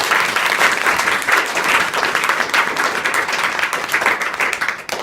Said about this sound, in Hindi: तो एक बार जोर से ताली बजाओ पहले अपने लिए।